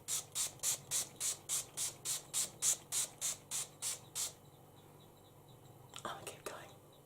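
Makeup setting spray hisses onto a face in about fourteen quick, evenly spaced pumps, soft and close, followed by a few faint rustles.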